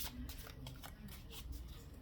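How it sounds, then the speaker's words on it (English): Smith-Waite tarot cards being shuffled by hand, a quick run of soft riffling and papery slaps repeating close up over about two seconds, with no voice over it. "Just do one more shuffle."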